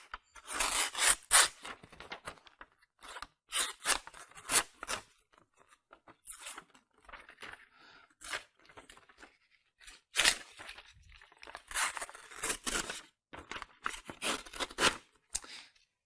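A knife edge scrapes along the top edge of a car window glass to sharpen it, making soft, raspy rubbing strokes in repeated bursts with short pauses between them, close and fairly quiet.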